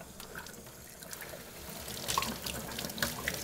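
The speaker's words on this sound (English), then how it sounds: "I'm going to give it a rinse." Running tap water rinses plastic and metal wine-making equipment parts, including a small metal spring, in a sink, giving a steady low splash with brief trickles and light clinks that grow a little louder toward the end.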